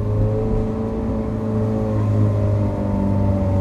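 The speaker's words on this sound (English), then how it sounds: "I can't believe it, I'm driving my Ferrari." A Ferrari 430 Scuderia with straight pipes drives at a steady pace, its engine droning loud and close with sustained tonal exhaust, and no talking over it.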